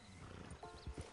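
A horse in Red Dead Redemption 2 snorts and shifts its hooves, with a short whinny and a few clopping steps, all heard close and fairly quiet in a brief moment.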